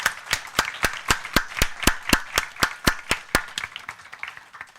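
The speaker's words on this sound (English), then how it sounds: "A big round of applause" A round of applause for teachers at a food science conference valedictory session, heard as distinct, evenly spaced rhythmic claps, about three per second, fairly close and crisp, fading slightly toward the end.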